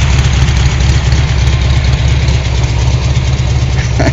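Loud, close idle of a Volkswagen Volksrod engine, a steady rapid low throb with a slightly rough, knocking beat running throughout.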